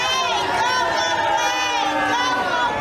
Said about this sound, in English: They're literally booing the fact that America's doing better than ever.